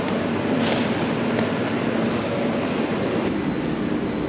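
A train rumbles along with a steady, loud, continuous roar of wheels and carriage noise, close by.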